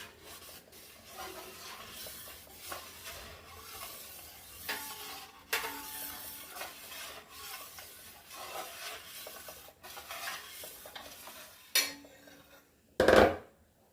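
Thick coconut milk stirred into ada pradhaman in a pan, a quiet scraping and swishing with soft bubbling, ending in a sharp clink of a utensil against the pan.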